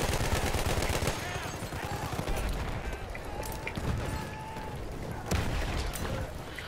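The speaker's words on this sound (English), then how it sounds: "I can't even tell what's going on because there's just explosions" Battlefield 1 gameplay is full of steady overlapping gunfire, rapid automatic bursts and booming explosions, a dense and chaotic battle din with a few sharper blasts standing out.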